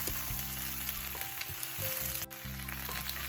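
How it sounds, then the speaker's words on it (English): Mixed vegetables for chow mein stir-frying together in a hot pan, a loud, steady hiss and crackle that runs throughout with small shifts as the food is moved, no voices. "Stir fry everything together for about 1 minute"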